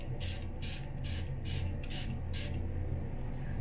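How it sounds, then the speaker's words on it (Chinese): A spray bottle mists water onto a face, six quick hissing puffs in a regular rhythm, close and crisp over a low steady hum. "很 generous 的用这个喷雾瓶在脸上，大概是喷5到6下"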